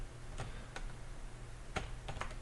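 Keys clatter on a computer keyboard in a few scattered, close taps over a steady background hiss, with nobody talking.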